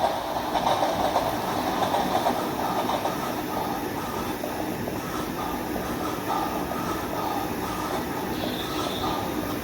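A train in a Subway Surfers-style video game rumbles past steadily, a dense continuous roar with rhythmic rail clatter throughout, loud and unbroken.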